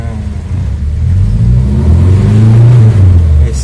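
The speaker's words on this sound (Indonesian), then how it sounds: "Jadi seperti itu lur, starternya Katana." A Suzuki Katana fitted with a hybrid gasoline and gas fuel setup cranks on its electric starter and fires up, the engine note rising in a short close burst.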